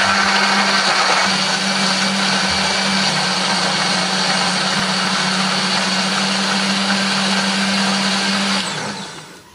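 A blender grinds chili, candlenut, shallots and garlic with a little water, giving a loud, steady whirring drone for about nine seconds before it winds down and stops.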